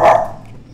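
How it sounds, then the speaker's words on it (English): A dog gives a single loud, sharp bark right at the start, then the sound fades into a quiet room with low background hum. "Sorry about the dog."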